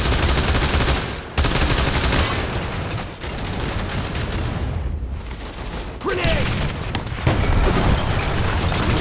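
A grenade blast and heavy gunfire fill a World War Heroes squad team deathmatch, with dense, loud bursts of rifle and machine-gun shots and booms running almost continuously.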